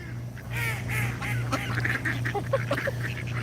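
Noisy ducks quack in a busy, overlapping chorus of honking calls at moderate distance over a constant low hum, with the quacks clustering more tightly toward the end.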